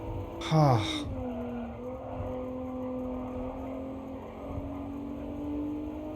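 A short tire squeal at the start, then a steady engine hum holding pitch as a car cruises along in Gran Turismo Sport, with a low rumble throughout.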